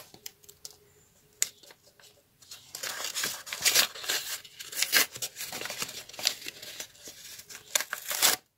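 A small paper surprise packet is opened by hand, giving close, irregular bursts of crinkling and tearing that grow busier after the first few seconds, with quiet gaps between rustles and no talking.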